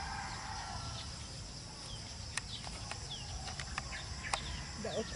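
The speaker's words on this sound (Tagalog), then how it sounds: "Yun yung manok." Chickens clucking and a rooster crowing faintly at a distance, with short sharp calls scattered over steady outdoor background noise.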